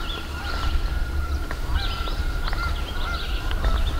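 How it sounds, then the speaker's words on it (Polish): Canada geese at Anvil Lake in a Wisconsin national forest honk repeatedly over a steady outdoor rumble, their calls overlapping at a moderate distance. "Chyba nasze gęsi kanadyjskie."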